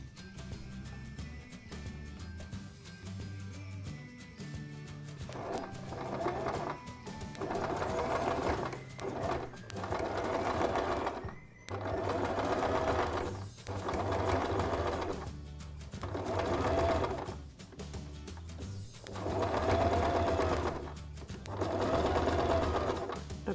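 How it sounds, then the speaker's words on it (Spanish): A sewing machine zigzag-stitches around the edge of a fabric circle for a fabric bowl, running in steady whirring bursts separated by short pauses, close and clear with no talking. "yo lo que voy a hacer es primero coser por el borde de este círculo en zigzag"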